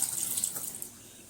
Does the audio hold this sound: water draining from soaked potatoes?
yes